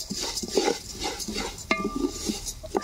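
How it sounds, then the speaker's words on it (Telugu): Paddy rice seeds roasting dry in a pan while being stirred, giving a close run of scraping strokes and light metallic clinks against the pan, with one sharper knock partway through. "వీటిలల్లో ఉండే చెమ్మంతా పోయి బాగా వేగేంత వరకు ఇలాగే కలుపుతూ ఉంటాను"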